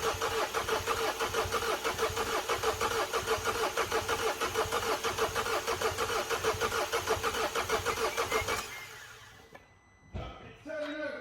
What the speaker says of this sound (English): It's turning over, it's not starting, so it sounds okay.